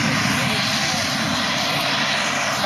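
A model A-10 Warthog aircraft takes off at a model aircraft event, its engine a loud, steady, close roar filling the whole stretch.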